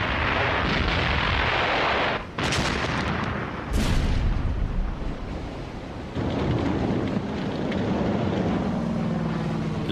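A World War II U-boat's deck gun fires on the surface during the Battle of the Atlantic: two sharp, loud blasts crack out a second apart over a heavy, continuous rumbling roar, with no voices.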